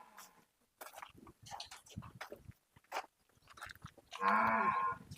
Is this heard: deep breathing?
no